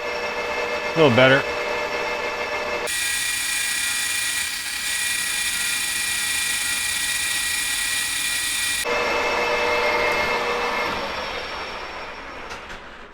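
A machine runs steadily at 800 RPM on a motorcycle leading-link suspension part. A loud, even broadband whine starts abruptly, holds for about six seconds, then fades. A brief voice comes before it.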